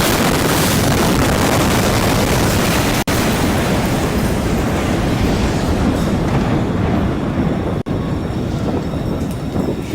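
Footage of a wedding on the day of an explosion carries a loud, dense, sustained roar and rumble that fills the whole stretch, with two brief dropouts, heard alone with no talk.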